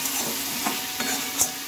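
Soft pumpkin pieces with spices and a little chilli powder are stirred in a sizzling pan, a constant hiss broken by four or so close scraping strokes of the spoon.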